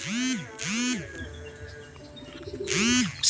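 Racing pigeons come home to their loft after a sprint race, giving three low, rounded coos with quieter rustling and faint background sound between them, close by.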